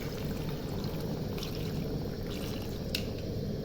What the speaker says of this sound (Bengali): আলুটা মাংসটা সিদ্ধ হওয়ার জন্য পানিটা আমি দিয়ে দেবো যতটুকু দরকার।